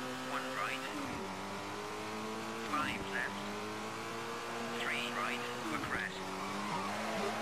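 Rally car in the PS1 video game Colin McRae Rally, skidding through sharp snowy turns with the handbrake: a steady droning engine note with repeated short tire scrapes and revs as it swings through corners.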